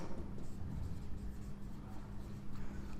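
Pen or pencil writing a line by hand on paper, a steady continuous scratching with low background rumble throughout.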